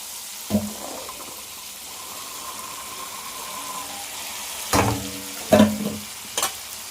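Broad beans with turmeric and rock salt being stirred in a pan: a soft steady hiss underneath, broken by a few sharp clattering scrapes of the spoon against the pan, one early and a cluster of three near the end.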